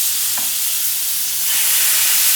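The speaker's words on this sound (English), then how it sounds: "And we're gonna go ahead and just grill these" Filet steaks sizzle on a very hot, oven-safe grill pan, a steady close hiss of frying that grows slightly louder toward the end, with one brief clink partway through.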